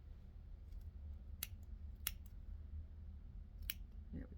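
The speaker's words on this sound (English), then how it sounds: "It's very thick, so we have to snip quite a bit here." Scissors cut through thick yarn slipped off a fork for a pom-pom, giving three sharp, separate snips spread across a quiet room with a low background hum.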